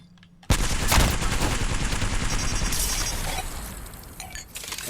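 A Bocek bow fires arrows in the Apex Legends video game, heard as a loud, sudden burst that stays as a dense, noisy rush for several seconds before easing off.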